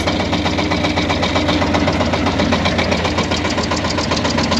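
A Shifeng tractor's diesel engine idles steadily with its hydraulic pump engaged, a close, continuous knocking chug with a rapid even beat and no voices.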